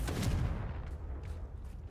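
A Confringo fire spell going off in the Hogwarts Legacy video game: a deep, booming blast that hits hard at the start and rumbles away over the next two seconds, with faint crackles trailing behind.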